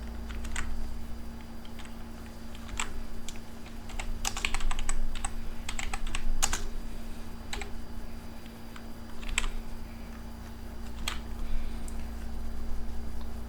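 Keystrokes on a computer keyboard while typing a search shortcut and a term in a software window, scattered clicks in small clusters over a steady electrical hum, close and clear, with no voices.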